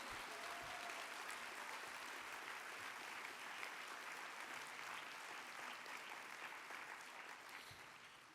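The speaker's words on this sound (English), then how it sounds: "Let's give them a round of applause." Audience applause at an annual awards celebration honoring nonprofit finalists, a steady broad wash of many hands clapping that holds for several seconds and tapers slightly at the end, fairly distant and soft.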